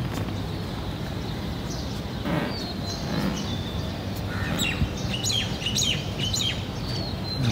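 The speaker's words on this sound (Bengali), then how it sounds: "পাখির ডাক আছে।" Faint, scattered bird chirps and short tweets sound outdoors on a cloudy morning, rising a little in the second half over a steady, breezy background hiss.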